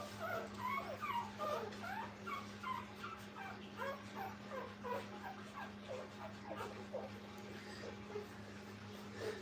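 A litter of puppies at a kennel whimper and yip continuously while feeding, many small overlapping whines close by over a steady low electrical hum.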